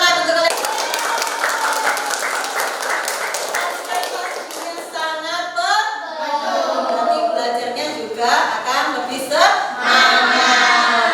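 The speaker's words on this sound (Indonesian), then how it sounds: "tepuk tangan untuk kalian." Classroom applause for students: a burst of many hands clapping fills the first half, then fades under a teacher's voice and students' chatter.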